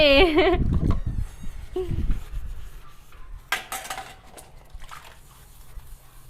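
Plates and cutlery clatter and scrape during dishwashing, with short clinks and rubbing at close range, and a person speaks briefly at the start.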